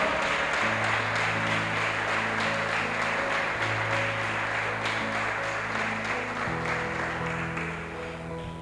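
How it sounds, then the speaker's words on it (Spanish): A church congregation applauds through a worship service, a broad, even wash of clapping running for several seconds over sustained keyboard chords, easing off toward the end. "Dele ese fuerte aplauso al Señor."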